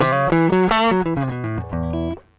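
An electric guitar through an overdrive pedal, recorded direct into a Line 6 Helix with no amp simulation, plays a short run of sustained distorted notes, dry and raw-sounding, ending as the last note fades out.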